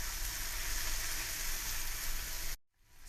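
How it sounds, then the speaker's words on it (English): Tomatoes sauté in a hot pan for aloo gobi, giving a steady, loud, close sizzle that runs unbroken and then drops out sharply near the end before rising again faintly. "we're going to add in the tomatoes, and we're going to saute that for a little bit"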